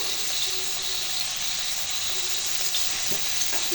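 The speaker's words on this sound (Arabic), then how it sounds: "في المقله درت واحد ربع كاس ديال الزيت، وغندير واحد 130 غرام ديال الكفته" Minced kefta with a little parsley and onion frying in about a quarter glass of oil in a pan, a steady, close, even sizzle that carries throughout with faint stirring clicks.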